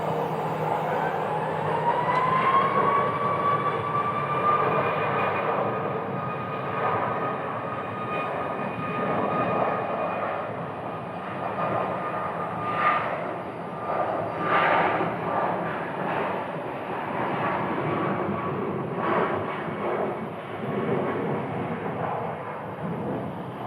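An airliner takes off from Phoenix Sky Harbor airport: a loud, sustained jet roar with a rising whine that holds steady and swells, with no talk over it.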